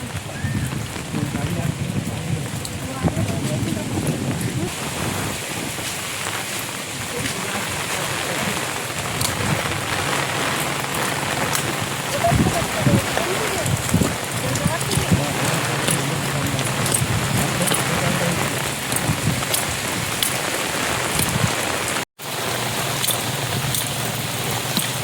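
Steady rain falling outdoors in the Sundarbans, a dense continuous patter that persists throughout, with voices talking over it and a brief cut near the end.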